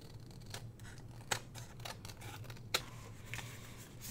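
Scissors trim a junk mail envelope in a quiet room, with a few soft snipping and paper-rustling cuts and two sharper clicks of the blades closing, close and faint.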